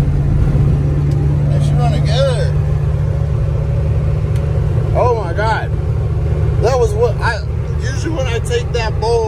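A 1996 Ford F-350 with a 7.3 diesel engine drives along with a steady, loud low rumble throughout, while people talk inside the cab over the engine drone.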